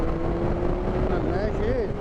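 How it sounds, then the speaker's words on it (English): A Kawasaki GTR 1400 motorcycle accelerating hard in third gear, a steady rising engine drone with its pitch sweeping upward toward the end, heard under continuous wind rush. "Third gear now, just going to give it a quick burst of acceleration"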